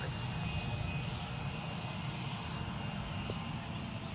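A TUI airliner's engines produce a steady, moderately faint broadband rumble with a constant drone, heard at distance without clear rise or fall.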